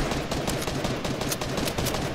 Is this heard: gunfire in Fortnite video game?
yes